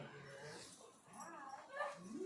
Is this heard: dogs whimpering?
yes